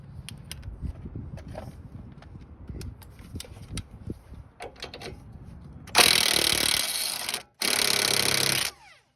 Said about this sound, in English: I'm just gonna hit over a power tool, see if we can loosen it up